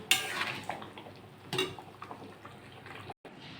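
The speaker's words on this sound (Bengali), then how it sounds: "ঝালটা হয়ে গেছে আমি এবার নাড়িয়ে নিই" A spoon scrapes around a pot of mung dal cooked with a silver carp fish head: two distinct metallic stirring scrapes, close by, with soft clinks in between and no talk.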